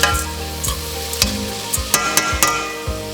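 A spoon stirs washed lentils in a pot, giving a run of soft scraping, clattering strokes at an uneven rhythm, close and fairly loud, with no voices.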